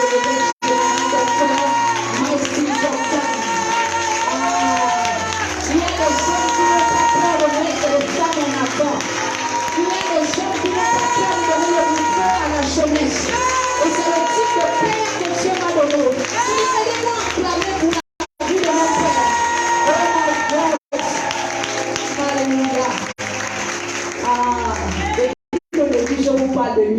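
A large church congregation at a French-language conference cheers, claps and shouts in a dense, loud, continuous roar, with children's voices and singing-like tones mixed in and only brief drop-outs.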